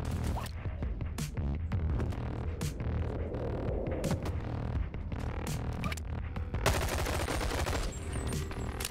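Gunfire in the VR game BONELAB, with dense bursts of rapid shots over a constant low hum and throbbing, loud and continuous, and no speech.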